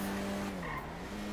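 A car brakes hard and skids in GTA 5, a sustained tire squeal with a slight downward bend in pitch, steady and loud for just over a second.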